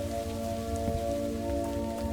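Steady rain in Minecraft falling as a continuous, even hiss heard from indoors at a muted level, with a low ambient hum beneath and no voices.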